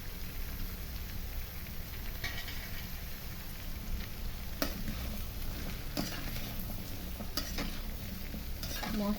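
Bottle gourd is stirred with spice paste in a pan, a quiet, continuous sizzle broken by several soft scraping strokes of a spoon at irregular intervals.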